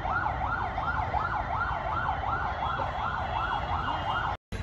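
An ambulance siren wails in a steady, rapidly repeating rise-and-fall pattern amid road traffic near a footwear expo, loud and continuous with no talk, cutting out abruptly just before the end.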